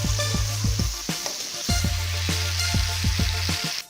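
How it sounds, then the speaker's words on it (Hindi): Onions fry in a pan for chicken biryani, a steady close sizzle broken by repeated stirring scrapes and clacks from a utensil. "प्याज की भुनाई कर लूँगा।"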